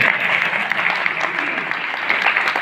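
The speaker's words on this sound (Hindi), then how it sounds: "कविता खत्म, ताली बजाओ।" A Hindi comic poetry gathering's audience claps steadily after a poem ends, a dense, even wash of many hands throughout with no pauses.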